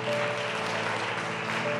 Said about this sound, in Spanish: Un aplauso fuerte a Dios.